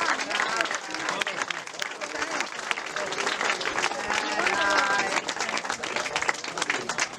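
Audience applause at a classic motorcycle club award ceremony in Cavarzere, honoring a 1934 Moto Guzzi owner; dense, steady clapping from a crowd fills the whole stretch, with scattered voices underneath.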